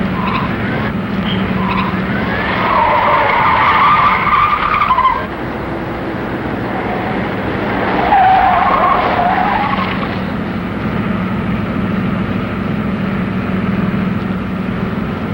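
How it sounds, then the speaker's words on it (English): Loud engines roar while tires squeal in long skids, two distinct screeching bursts rising over the continuous motor noise. "Intercept 2 speeding cars headed east, now being followed by police car number 34."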